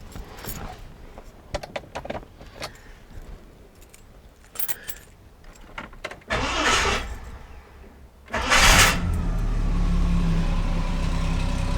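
A 1978 Ford XC Falcon 500 engine cranks and catches, then revs up loudly and settles into a steady, rumbling idle close by.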